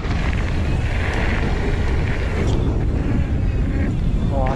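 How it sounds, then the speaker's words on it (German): Crosswind buffeting the microphone on a mountain bike ride at a bike park, a loud constant rumbling roar that fills the whole stretch and masks almost everything else. "ist ein bisschen Seitenwind"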